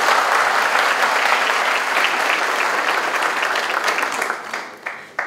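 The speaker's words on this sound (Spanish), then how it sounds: "ustedes se merecen el más fuerte de los aplausos" Loud, dense applause fills the hall at a university gala debate between mayoral candidates in Santa Rita, Paraguay. It comes as a steady, close wash of clapping from a large audience and thins and fades over the last second.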